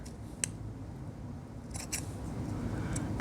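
Scissors snip through fleece fabric to trim the point of a sewn seam on a unicorn hood, a few crisp cuts with quiet rustling between, close and clear with no talk.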